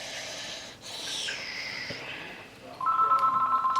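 A phone starts ringing near the end, a loud steady electronic trill breaking in after a stretch of breathy noise and shifting tones.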